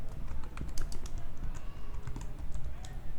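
Keys clatter on a computer keyboard in a quick, uneven run of close taps as a name is typed, with no voices.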